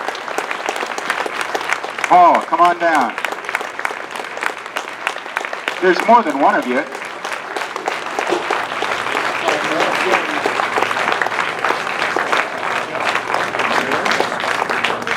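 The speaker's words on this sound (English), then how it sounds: "Keep that applause going." Theater audience applauding at a Q&A event at the Historic Admiral Theater, steady loud clapping filling the room throughout while a voice speaks briefly over it.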